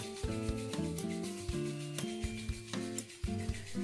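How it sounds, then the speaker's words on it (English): Hands rubbed briskly together during a yoga routine, a soft repeated friction swish under steady background music, close and quiet. "Then again rub your hands."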